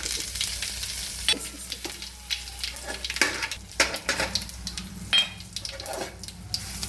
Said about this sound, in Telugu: ఆయిల్ వేసి కొంచెం ఆవాలు వేసినాము